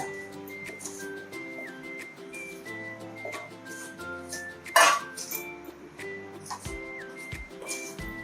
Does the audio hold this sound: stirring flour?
yes